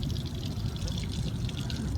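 Water spills from a fountain beside a trout-fishing spot in a soft, steady splashing trickle, fairly faint and continuous, with no talk over it.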